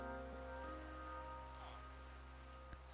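Steady rain falls in the video game Minecraft, a continuous even patter with a constant low hum underneath, faint and unbroken with no talking.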